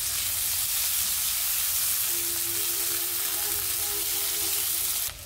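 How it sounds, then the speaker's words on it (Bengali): Chopped onions hit hot oil in a pan for a fish curry with potato and pointed gourd, producing a steady, fairly soft frying sizzle that runs evenly and cuts off at the end. "তো আমি এই তেলের ভিতরে পেঁয়াজ দিয়ে দিচ্ছি"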